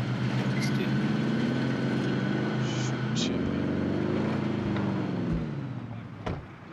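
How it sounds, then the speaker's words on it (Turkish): Car engine in the Warzone video game, a loud droning motor whose pitch rises and falls as it revs, heard close and continuous before fading slightly near the end. "O arabanın sesi çok bastırıyor."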